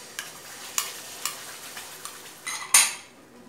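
Onion-tomato paste goes into melted butter in a pan for paneer butter masala and is stirred, producing a string of spoon scrapes and clinks against the pan over a soft sizzle, with a louder scrape near the end.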